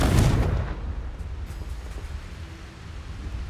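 A Confringo blasting spell goes off in Hogwarts Legacy, a sharp explosive burst that opens loud and booming, then fades into a rumbling decay and lingering low noise.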